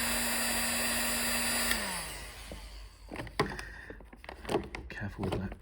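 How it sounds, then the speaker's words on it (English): A heat gun warms stiff rubber airbox boots on a Kawasaki Zephyr 750 motorcycle, a loud steady blowing whine that winds down and stops partway through, followed by handling clatter and knocks of the rubber parts. "So what I'm doing is I'm using a heat gun"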